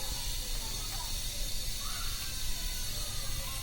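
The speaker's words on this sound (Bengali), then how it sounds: "তেলটা গরম হয়ে গেলে এর মধ্যে আমি পেঁয়াজ দিব।" Onions go into hot oil for a prawn kofta, giving a steady, bright sizzle and hiss that runs evenly and fairly close throughout the short stretch.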